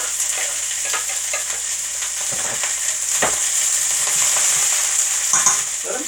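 Cauliflower toasts and sizzles in a frying pan with a steady, close crackling hiss, broken by occasional scraping stirs of a utensil against the pan, with no voices.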